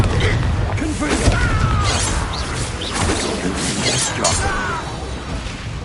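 The Confringo blasting spell in the video game Hogwarts Legacy makes a loud, dense burst of shattering, crashing and crackling debris that rolls on for several seconds with mechanical creaks layered in.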